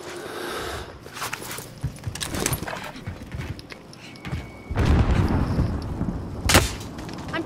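Gunfire crackles in Call of Duty: Modern Warfare, scattered shots and booming impacts mixed with footsteps and clattering movement, with a louder burst of firing in the second half and a sharp report near the end.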